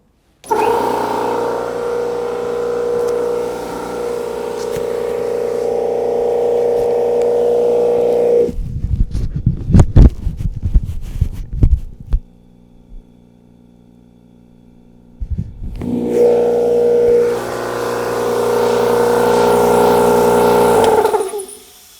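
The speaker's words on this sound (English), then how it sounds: "I've got my compressor here, I'm going to turn it on, it's super loud" A loud air compressor runs steadily with a dense mechanical drone, cuts out into a stretch of quieter clattering and near silence, then starts up again just as loud.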